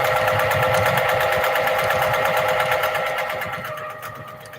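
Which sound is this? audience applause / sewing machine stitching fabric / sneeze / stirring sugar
sewing machine stitching fabric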